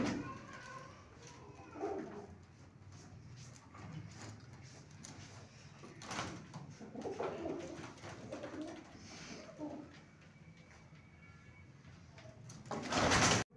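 Soft pigeon cooing, low and rounded, recurs through a quiet indoor space, faint and intermittent, with some shuffling and a brief louder burst of noise right at the end.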